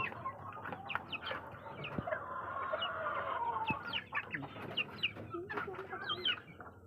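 Chickens cluck nearby in short, repeated bursts, with occasional louder squawks over a soft farmyard background.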